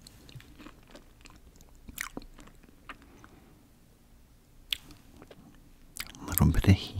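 A crunchy Indian snack is chewed close to the mic in a series of soft, irregular crisp bites, building to loud crunches near the end, with a voice speaking quietly in places.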